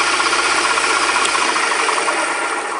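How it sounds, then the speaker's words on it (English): An ArcEuroTrade C1 micro lathe runs with a steady, close mechanical whine and hum, a continuous motor drone with faint rattling texture throughout. "Let's stop the lathe"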